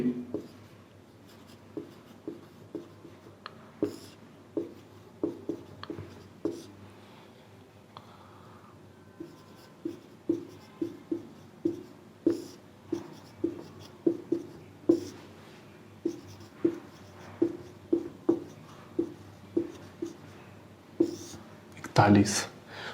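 A marker or chalk scratches across a board during a Hindi-language maths lesson on the number system. Short, crisp strokes repeat in a steady rhythm, close and distinct, while the teacher talks.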